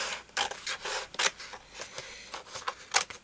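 Scissors cut through paper while a junk journal is being made: a quiet run of short, crisp snips and rasping strokes come one after another at an irregular pace, close up, with no talking.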